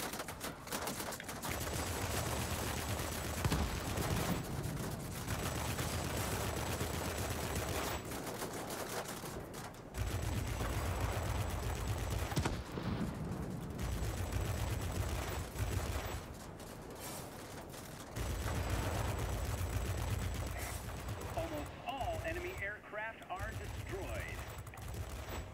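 Gunfire from an ME P.1101 jet fighter in an air-combat video game, rattling in sustained bursts with short pauses between them over a steady engine drone, loud and close.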